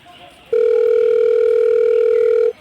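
A steady telephone dial tone sounds alone for about two seconds, loud and close, after a brief murmur of background noise, as a call to a friend is placed.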